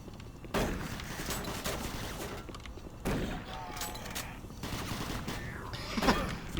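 Bursts of rapid gunfire in the shooter game Doom 3, loud repeated volleys that come in several waves with heavy impacts, while a voice talks over the shooting.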